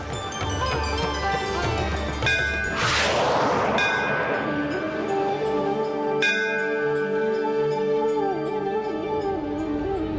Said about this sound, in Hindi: मंदिर का घंटा अपनी ध्वनि से उसका मार्गदर्शन करता है।